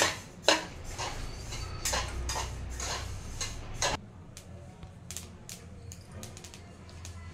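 Sesame seeds roasting dry in a pan for sankrant til ladoo make sharp, scattered crackling ticks, dense and close at first, then sparser and quieter after a few seconds, with no talking.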